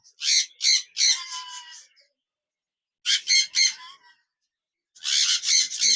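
A pair of zebra finches call in bursts of sharp, nasal, repeated chirps, three clusters separated by silence, close and clear.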